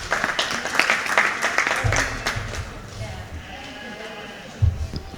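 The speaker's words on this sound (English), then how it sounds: "Let's give these participants both a big round of applause." Applause rises for participants at a junior fair sheep show, a short burst of clapping under an announcer's talk, with a sheep bleating and hooves shuffling in the show barn.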